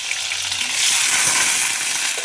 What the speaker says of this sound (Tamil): கருவேப்பிலை, உப்பு நல்லா வதக்கிடலாம்.